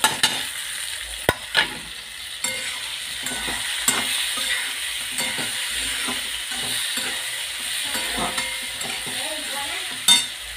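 Chopped tomato frying in hot oil with cumin and mustard seeds for a bitter gourd curry: a steady, close sizzle with repeated scraping and clacking strokes of a spoon stirring in the pan.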